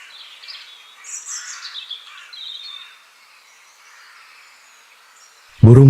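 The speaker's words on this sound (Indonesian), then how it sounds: "Burung-burung bernyanyi dengan irama yang harmonis, menciptakan melodi yang menenangkan jiwa yang lelah." Several high, thin bird calls and trills in a quiet forest near a waterfall in Indonesia, faint and somewhat distant, ending with a sudden loud burst.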